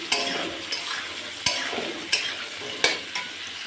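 Green peas stirred into sautéing cauliflower in a pan, with a few sharp spoon scrapes and clinks against the pan over a soft continuous sizzle.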